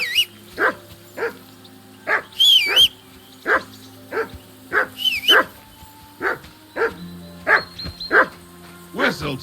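Dog barking in the medieval video game Kingdom Come Deliverance 2, about a dozen sharp, fairly close barks at an irregular steady pace, with a brief whine in between and a low game ambience underneath.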